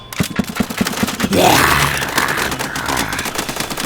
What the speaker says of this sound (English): As the simulated gunfire riddles Sabretooth and the side of the building